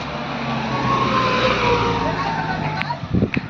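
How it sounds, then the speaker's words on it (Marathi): A motor vehicle engine hums and rises steadily as it arrives along a rural Konkan road, with people talking over it and a few sharp knocks near the end. "मग दादू पण इलो गाडी घेऊन"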